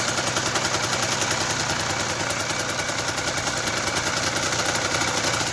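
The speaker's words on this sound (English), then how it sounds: "I'm just holding the gas a little bit to keep it running, because on a golf cart, I let go and she just shuts off" A golf cart engine idles on a little throttle with slight choke, a steady close chugging drone with a fast even pulse throughout, no voices.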